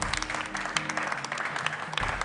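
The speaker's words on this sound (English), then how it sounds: "A round of applause to Ave-Afiadenyigba, DA, JHS, ladies and gentlemen" An audience at a school quiz competition gives a brief burst of clapping for a junior high team, a short, lively patter of applause lasting about two seconds.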